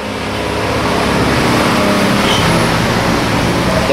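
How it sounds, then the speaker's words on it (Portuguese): A truck passes on a road, a loud, steady broadband rumble of engine and tire noise that fills the whole stretch without letting up. "Até que passa caminhão, barulho, é difícil gravar"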